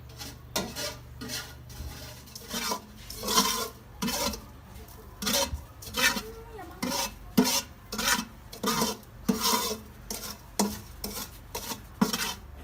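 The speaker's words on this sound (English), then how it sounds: "we need to mix the cooking oil and the sugar. So give it a few stirs." Cooking oil and sugar stirred in a saucepan, a rhythmic rasping scrape repeating about once a second, close and fairly loud with no talk.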